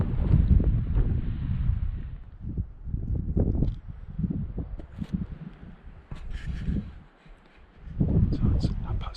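Gusty wind buffets the microphone in loud rumbling bursts that rise and fade, with a person talking intermittently over it.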